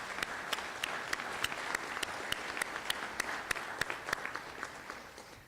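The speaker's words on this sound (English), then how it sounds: "Let's give our faculty and staff a round of applause." Applause for faculty and staff at a university convocation, a moderate crowd clapping steadily with a few sharp individual claps standing out, fairly even and sustained.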